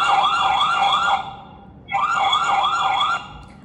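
Loud electronic siren of a home security camera alarm wailing in rapid rising-and-falling sweeps, two bursts separated by a short gap, close and piercing.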